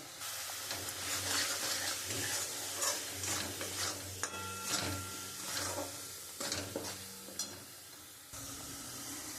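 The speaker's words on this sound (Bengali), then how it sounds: "আমি মশলাটা দিয়েছি সব আমি এবার খুব ভালো করে কষিয়ে নেবো" Spice paste of chili, coriander and cumin powder frying in oil, a loud close sizzle broken by repeated scraping stirs of a spoon against the pan, with no talk.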